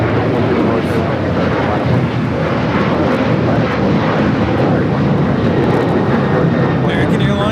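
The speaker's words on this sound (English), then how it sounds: "American Airlines 1292 taking off to Nashville on the 737-800" An American Airlines Boeing 737-800 taking off roars loud and close, a dense sustained jet rumble across the whole stretch with people talking beneath it.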